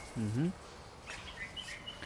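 An Alexandrine parakeet gives a short squawk, followed by faint high chirps over a soft background hiss.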